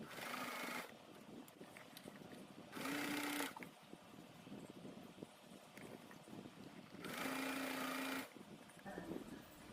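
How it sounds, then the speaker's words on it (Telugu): A sewing machine stitches piping onto a blouse, running slowly in two distinct bursts with a steady motor hum against a quiet room background. "ఈ పైపింగ్ చేసేటప్పుడు కూడా చాలా స్లోగా స్టిచ్ చేసుకోవాలి"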